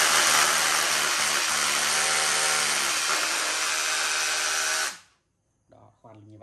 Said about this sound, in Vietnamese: Đây là máy khoan bê tông này.